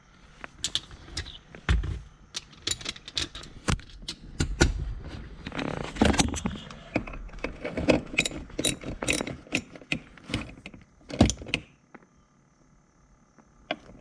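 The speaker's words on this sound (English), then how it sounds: "let's get that 9mm socket and lock it down" A ratchet turns a 9mm socket on a BMW parking brake, giving rapid bursts of crisp clicking in short close strokes, with pauses between them before it falls quiet.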